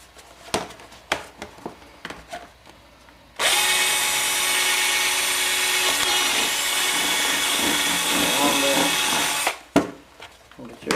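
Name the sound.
power drill drilling hole in plastic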